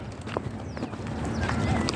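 Buffaloes and goats being herded out to graze make quick, close clip-clop hoof steps in a short burst, with faint background voices.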